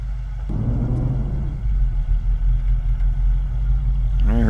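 A 1993 GMC Jimmy 4x4 with a swapped V8 rumbles along as it is shifted into four-wheel drive, a low steady engine drone with a short clunk near the start and a faint squeal at the end.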